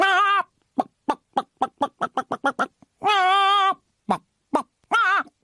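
Squawking fowl clucks serve as a comic sound effect in a British radio comedy, opening and closing with long drawn-out squawks around a rapid string of short clucks. It is loud and close, with no talking over it.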